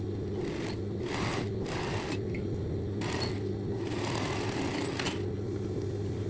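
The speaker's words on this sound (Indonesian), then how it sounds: "Lipat kain untuk saku secara vertikal, kemudian jahit selebar 3 cm." A sewing machine runs steadily, stitching a vertically folded fabric pocket for a short-sleeved uniform shirt with a 3 cm wide seam. Its whirring motor hum comes in bursts with short pauses between them, close and alone with no voices.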